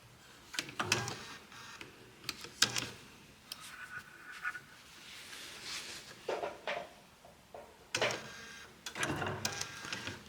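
A sewing machine running quilting stitches along a Taj ruler, heard close as repeated short bursts of rapid mechanical stitching with pauses between them and light handling clatter.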